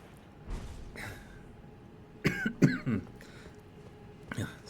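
A man clears his throat and coughs several times, with short harsh bursts near the middle, a softer rasp at the start and a final cough at the end, close to the microphone in a quiet room.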